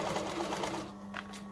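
A sewing machine runs close and loud, a fast steady mechanical whir stitching a hoodie lining seam before slowing and pausing briefly near the end.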